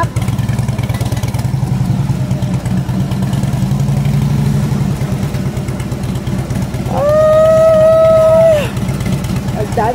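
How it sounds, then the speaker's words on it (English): Motorcycles on a street pass by with a steady low engine drone throughout, swelling louder near the end as one rides close; people talk over the traffic. "Ang dami naman itong motorcycle na to"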